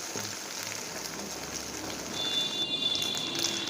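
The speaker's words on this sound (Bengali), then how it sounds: "তবে হ্যাঁ, একটা পিঠি ভাজছি" An egg omelette sizzles in oil in a kadai, a steady soft hiss of frying that stays quiet and close, growing slightly louder toward the end.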